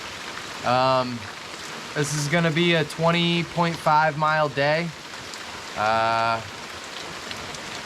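Heavy rain falls on a hiker on the Appalachian Trail in cold wind, a steady hiss of drops heard constantly beneath someone speaking close by.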